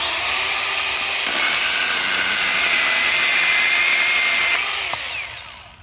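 A Milwaukee M12 Fuel 6-inch hatchet, a small battery-powered pruning saw, cuts through material with a loud, steady high-pitched whine lasting several seconds before it spins down and fades.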